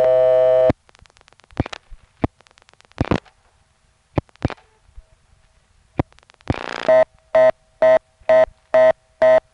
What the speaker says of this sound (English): Listening to the reorder, you may hear some clicks, which correspond to other callers hitting the reorder and then